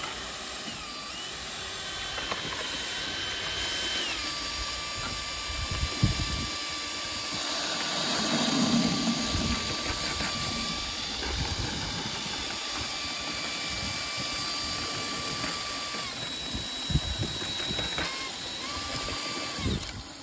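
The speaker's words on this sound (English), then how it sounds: "we use the paddle mixer here to mix it for 30 seconds" A paddle mixer whirs steadily while blending termiticide mix in a container, a continuous mechanical drone with a faint whine and a few knocks, close and even throughout, no talk.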